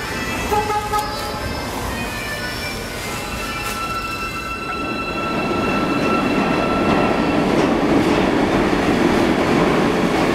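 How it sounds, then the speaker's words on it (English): A New York subway B train bound for 2nd Avenue rolls past, loud and close, with a horn-like toot early on and then a sustained roar of wheels and clattering cars. "2nd Avenue bound B train."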